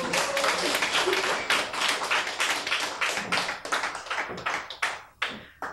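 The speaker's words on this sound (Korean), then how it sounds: "박수로 맞이해 주시기 바랍니다." A crowd at a gathering claps to welcome a speaker, a loud, close, dense patter of many hands that gradually breaks into sparser, uneven claps as it dies down.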